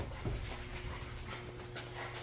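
A dog pants softly and quickly nearby, a faint breathy rhythm with a brief whimper near the start.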